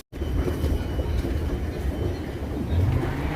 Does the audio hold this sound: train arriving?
yes